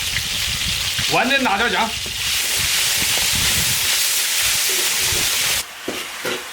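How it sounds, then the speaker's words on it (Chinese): Snakehead fish, already fried, is stir-fried with ginger and scallion in an iron wok, giving a loud, steady sizzle and hiss with spatula scrapes. Someone speaks briefly early on, and the sizzle drops off near the end. "炸好了，开始炒。"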